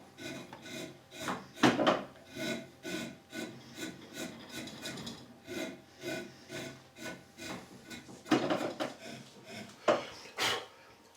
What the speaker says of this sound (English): back cutting here with a 1/2 inch 13mm 6 or 7, a medium gouge, and just paring it off